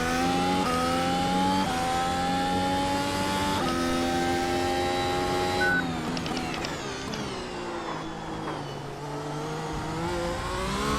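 Mercedes-AMG W13 Formula 1 car in iRacing, its engine droning loud and close with steady high harmonics, then a sharp drop and rising gearshift sweeps as revs climb again, no voices over it.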